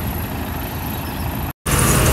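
A truck engine started after five days idle runs with a steady, loud rumble close by. The sound breaks off for a moment and then picks up again.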